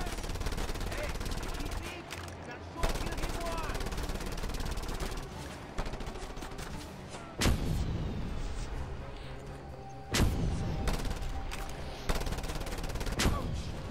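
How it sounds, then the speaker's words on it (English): Bombs bursting in the open-world shooter Just Cause 2: a dense barrage of loud, near explosions and rapid gunfire-like cracks, with heavy blasts recurring every few seconds over a constant rumble, plus some talk mixed in. "he's throwing a lot of bombs right now"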